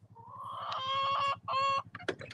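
Chickens in a farm chicken coop: a rooster crows loudly and close, breaking into a second short crow, followed by a few quick clucks, with no talking.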